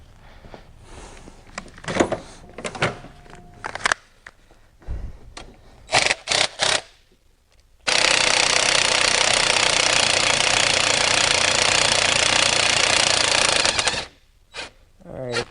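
An air impact gun hammers at a Honda S2000 transmission bolt in one long loud continuous burst of about six seconds, preceded by scattered clanks and knocks of tools and parts.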